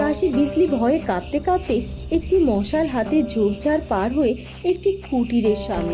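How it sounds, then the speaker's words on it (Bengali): Crickets chirp steadily in a dense, high-pitched chorus at night in a deep forest, beneath a voice narrating continuously in the foreground. "গভীর জঙ্গল অমাবস্যার মতো অন্ধকার ঝিঝি পোকার ডাক আর প্যাঁচার আওয়াজে"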